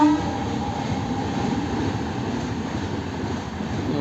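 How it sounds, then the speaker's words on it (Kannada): A train passes a railway level crossing with a steady, close rumble of wheels and wagons. A brief horn-like tone sounds at the start. "ಇವಾಗ ಟೈಮು 9:30 ಯಾವುದೋ ಟ್ರೈನ್ ಹೋಗ್ತೈತೆ ನಮ್ಮ ಪಾಂಡಪುರ ಕಡೆಗೆ."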